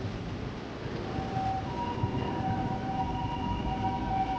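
An ambulance siren wails along a street in Japan, a steady two-tone cry at moderate distance over continuous traffic rumble, with no talking.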